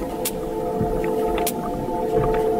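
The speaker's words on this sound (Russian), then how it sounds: "Итак, я слышу кашалота. Ровные щелчки." Sperm whale echolocation clicks picked up by a hydrophone in the open ocean: a few sharp, evenly spaced clicks ring out over a constant underwater hiss and low drone, with no voices.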